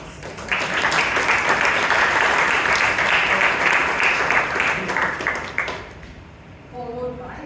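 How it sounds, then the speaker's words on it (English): A meeting room audience at a Toastmasters club gives the club secretary a loud, sustained round of applause that fades near the end, where a voice begins to speak. "let's give our secretary a huge round of applause"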